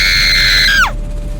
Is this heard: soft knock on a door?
no